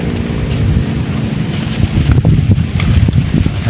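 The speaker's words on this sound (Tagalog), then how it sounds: "mahangin na naman" Strong gusty wind buffets the microphone with a loud, rumbling roar that surges and rattles throughout, no voices heard.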